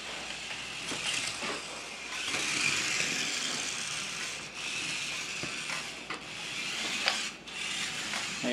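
A 1:43 scale RC Hummer spins out on a smooth surface, giving a continuous high whine of its small motor with scraping, rubbing bursts as the wheels slide.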